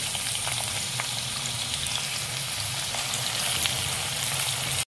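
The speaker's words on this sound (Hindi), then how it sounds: "जीरा ऐड कर देंगे और साबुत मिर्च इसमें ऐड कर देंगे" Cumin seeds and whole dried red chilies fry in hot oil, giving a loud, steady, close sizzle that crackles evenly throughout with no pauses.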